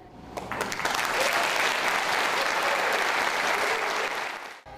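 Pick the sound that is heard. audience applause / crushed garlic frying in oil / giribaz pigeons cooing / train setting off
audience applause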